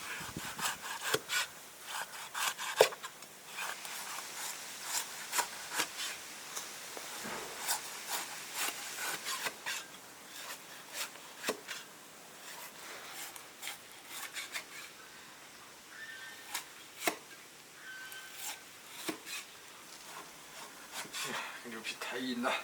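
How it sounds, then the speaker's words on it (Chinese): A knife cuts through tough, hard cow skin, slicing it into thin strips. Close, dry scraping and rasping strokes repeat unevenly throughout, with sharper clicks where the blade meets the board. "把牛皮切成细丝，切细一点，这个有点硬，太难得切了"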